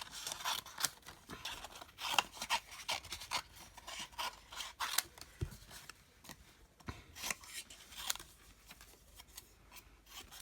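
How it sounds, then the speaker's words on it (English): Scissors snip through card in a quick run of crisp, close cuts, each with a papery rasp, repeating steadily and quietly with no voices. "What I'll do is just quickly cut."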